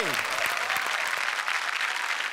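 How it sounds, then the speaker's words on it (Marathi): Audience applause at a Marathi comedy show stage event, a steady dense wash of many hands clapping throughout, loud and sustained with no pause. "जोरदार टाळ्या सरांसाठी."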